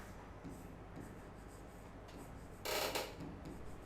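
A pen scratches across paper in soft, short strokes at close range, with one louder, rougher scribble burst partway through.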